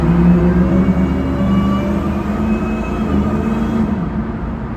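A deep, loud Jeep engine roar echoes steadily inside a tunnel, droning continuously with a slight waver before trailing off abruptly near the end.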